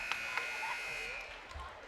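A buzzer sounds at a high school boys basketball game in a gym, a steady tone held for about a second over crowd noise and a commentator's voice.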